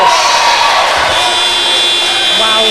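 An end-of-quarter buzzer sounds at a netball match between the UAE and the Republic of Ireland, a sustained electronic tone held over the roar of a cheering crowd.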